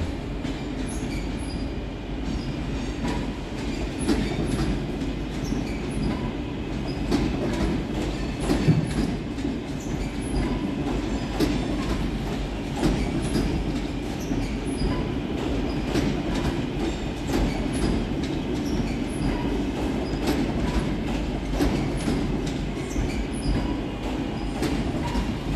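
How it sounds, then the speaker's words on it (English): West Midlands Railway class 323 electric units pull into Birmingham New Street, a steady low rumble of wheels and traction with occasional squeals and clicks echoing under the station roof, continuous and fairly close, with no talk. "Next in to arrive is 323218 and 323212, working the slightly delayed 1315 West Midlands Railway service from Redditch to Four Oaks."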